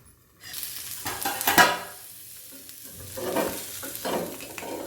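Curd dosa batter sizzling in a pan over high heat as a plate is set over it as a lid, with a brief clatter early on and the frying hiss rising and falling.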